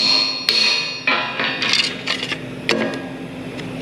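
A hammer rings out against the metal of a farm plow during fabrication, several sharp metallic strikes at irregular intervals, close and resonant with lingering ring.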